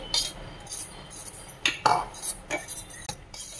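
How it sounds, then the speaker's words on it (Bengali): A spoon stirring flour batter in a bowl, with scattered clinks and scrapes against the sides in an uneven rhythm, close and fairly quiet. "ভালো করে আরেকবার গুলে নিচ্ছি।"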